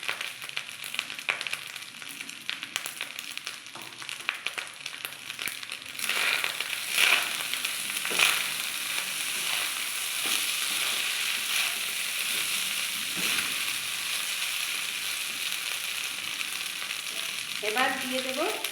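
Leftover rice stir-frying in a pan, a steady broadband sizzle with scraping stir strokes throughout, close and fairly loud, no talk.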